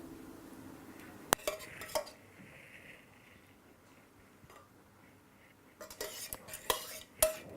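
A utensil scrapes and taps against a baking dish while spreading sauce over orange-fleshed sweet potato cannelloni, with sharp clinks and a quieter smearing stretch between them, close and moderately loud.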